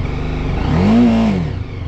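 A motorcycle engine revs once close by, swelling to a loud peak and then falling back to idle within about two seconds.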